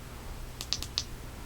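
A Mateminco MT07 flashlight's tail button is double-clicked, giving two quick, sharp, close clicks about a quarter second apart over quiet background hiss, with no talking.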